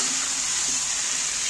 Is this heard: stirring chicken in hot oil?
yes